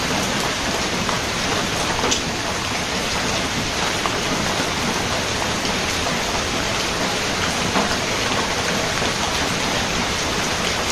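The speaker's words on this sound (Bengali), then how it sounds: "বৃষ্টি চলছে" Steady, heavy rain pours down without a break, a dense, even hiss of drops drumming on surfaces all around.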